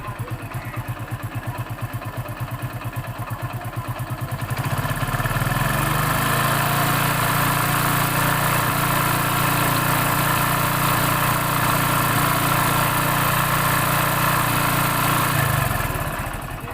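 A motorcycle engine idles close by with a fast, even mechanical throb, a light ticking clatter riding on top, then steps up to a slightly higher, fuller idle midway and holds steady before easing back near the end.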